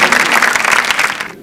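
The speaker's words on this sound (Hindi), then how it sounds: "तालियां तालियां तालियां प्लीज।" Loud, close crowd applause at a dance competition grand finale, a brief dense burst of clapping that cuts off abruptly.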